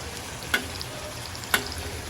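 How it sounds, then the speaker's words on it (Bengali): Fried meat and green chillies frying in a pan, a continuous close sizzle broken by two sharp stirring clinks about a second apart. "ভাজা মাংসটা এখন দিয়ে দিল সাথে কয়েকটা কাঁচামরিচে দিল"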